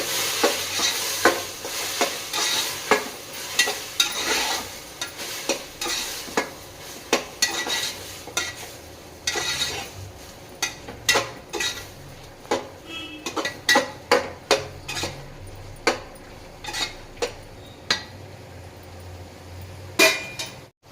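Ground spice paste fries in oil with vegetables for a vegetable pulao, a utensil scraping and clinking against the pan in irregular close strokes over a steady low sizzle.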